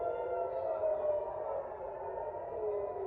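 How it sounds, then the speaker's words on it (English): A wailing air raid siren in Haifa, Israel drones steadily, its tone slowly rising and falling, heard from a distance with no voices. "air raid sirens sounded across the city of Haifa"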